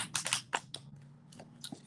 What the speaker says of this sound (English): One more shuffle's going to do it.